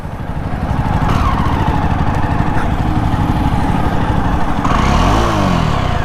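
A Jawa 42 BS6 motorcycle engine fires up and settles into a loud, close, rhythmic idle with metallic rattle, then briefly revs up and drops back.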